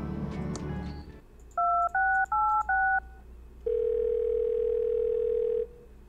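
A cell phone in the Thimbleweed Park video game dials: after brief game sounds come four short, evenly spaced keypad beeps, then a long steady tone, all clear and close.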